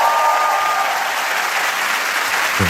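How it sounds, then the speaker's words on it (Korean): Studio audience applause on a Korean TV talk show, a steady wash of dense clapping that stays loud and even for the whole stretch with no talk over it. "이럴 때 박수 한번 주셔야죠."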